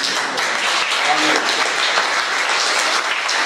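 A church congregation breaks into sustained applause, a dense wash of clapping that holds steady and fairly close for a few seconds.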